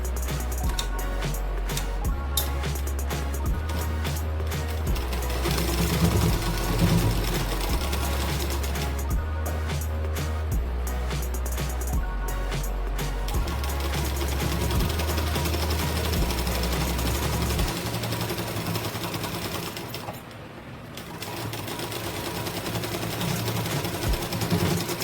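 A sewing machine stitches a blouse in long continuous runs with a steady rapid chatter, close and loud, pausing briefly near the end before starting up again; no one speaks.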